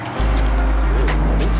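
Race cars at a track on a cold day, a continuous low engine roar with a car passing nearby, loud and close, with brief wind or handling noise.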